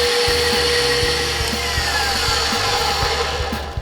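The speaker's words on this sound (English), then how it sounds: "while the egg whites are whipping" Electric hand mixer whipping egg whites with cream of tartar for a gluten-free lemon cake, a steady close motor whir with rhythmic beaters knocking against the bowl, running alone.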